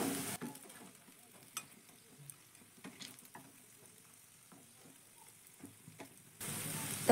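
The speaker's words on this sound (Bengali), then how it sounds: "আমি এবার এগুলোকে উল্টে দিচ্ছি।" Snacks turned over in frying oil, a soft sizzle with scattered light scrapes and taps from the utensil, fairly quiet until a louder burst of sizzling near the end.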